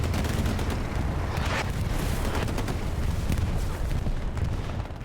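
A bombing run in Hell Let Loose during a competitive match, heard as continuous heavy rumbling blasts and booming explosions with scattered crackling impacts, loud and sustained throughout.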